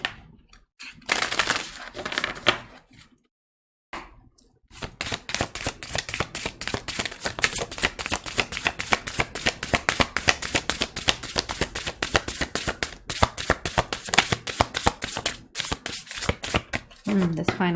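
Tarot cards are shuffled rapidly and continuously to draw a final card, a dense run of crisp riffling clicks and flutters after a brief pause near the start, close and clear.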